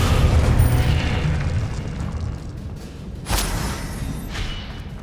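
A heavy magical slam from the Descendo spell in Hogwarts Legacy lands as a deep boom, followed by a rumbling wash and a second thud partway through, with no talking.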